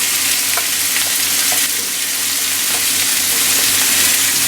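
Oyster mushrooms and cooked, drained chard stalks fry in a pan with a loud, dense, continuous sizzle, scattered with small pops and crackles.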